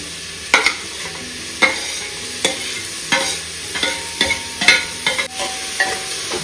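Onion and finely chopped capsicum fry in hot oil for beef mandi, with a steady sizzle under repeated close spatula strokes that scrape and clack against the pan every second or so.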